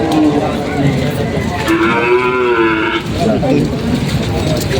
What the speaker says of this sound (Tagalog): Binibenta niya itong inahing kalabaw.